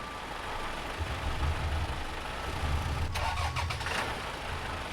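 A truck engine in the SnowRunner video game cranks and catches, a low rumbling start that settles into a steady idle with a brief rattling burst, heard alone at close range.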